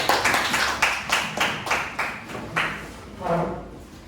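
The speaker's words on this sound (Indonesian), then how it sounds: "Tepuk tangan untuk kelompok A." An audience gives a group presentation a short burst of clapping. Several distinct claps sound at a loose, uneven rhythm, close and moderately loud, and a voice is heard briefly near the end.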